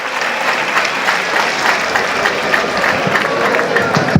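Steady audience applause from a crowd gathered inside a prison, a dense continuous wash of clapping holding at an even, fairly loud level throughout.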